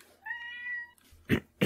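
A house cat gives one clear, drawn-out meow close by, followed by a couple of sharp thumps.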